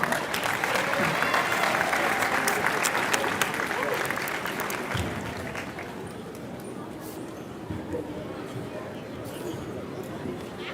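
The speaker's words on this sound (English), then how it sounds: "Give him one more big round of applause" A high school basketball crowd applauds the three-point shootout champion at a championship game, steady loud clapping and cheering that eases slightly toward the end, with voices mixed into the noise.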